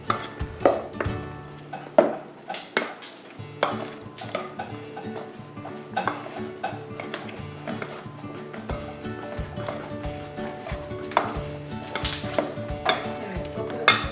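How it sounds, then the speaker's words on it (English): A spoon stirs pico de gallo dressed with the juice of half a lime in a bowl, giving repeated close clinks and wet scraping in an irregular rhythm, with faint background noise and no speech. "Let's get a spoon, and we're just gonna mix it."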